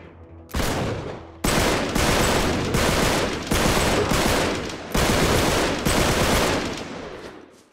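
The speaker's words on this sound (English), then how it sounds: "So y'all heard all those gunshots?" Loud bursts of rapid gunfire erupt in several long volleys, each sustained rattle cutting off abruptly before the next, like automatic weapons in the video game Uncharted 3: Drake's Deception.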